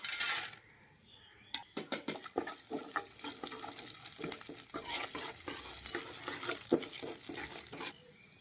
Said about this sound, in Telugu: ఇప్పుడు నేను తాలింపు పెట్టుకుంటున్నాను